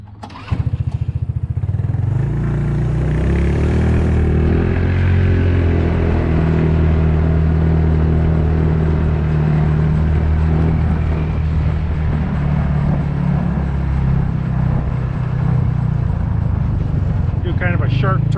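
A Yard Sport YS 200 engine starts and runs through a ride, a loud, steady low motor drone with some revving, close up, with a person talking over it.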